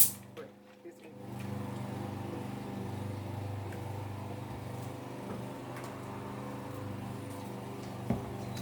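A neighbor's lawn mower cuts grass in a sunny South Florida yard, its engine droning steadily at a moderate distance after a brief quiet start. The hum stays faint and even throughout.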